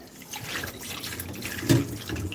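Water pours from a tap into a kitchen sink in a steady, close wash, with a brief louder splash near the end.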